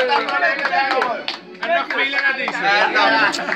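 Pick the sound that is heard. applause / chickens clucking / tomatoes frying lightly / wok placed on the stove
applause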